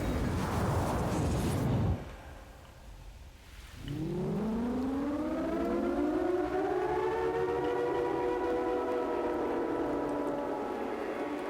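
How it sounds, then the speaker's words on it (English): A loud wailing civil-defense-style siren in a video game, sounding at midnight after an earthquake: a burst of rumble cuts off, then the siren rises from low and holds a sustained, layered howl. "At the stroke of midnight, we heard a loud siren"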